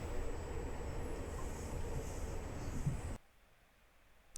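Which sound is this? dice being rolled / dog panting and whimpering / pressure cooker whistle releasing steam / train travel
train travel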